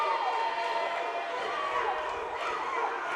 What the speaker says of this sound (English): You hear a lot of noise out of the crowd.